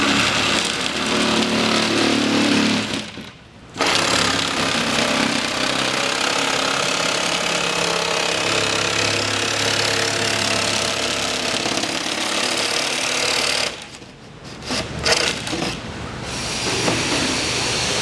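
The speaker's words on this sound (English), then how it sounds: "We're going to cut this board using a plywood blade." A power saw with a plywood blade cuts through a board, giving a loud, steady grinding whine that stops briefly early on and again near the end before starting back up.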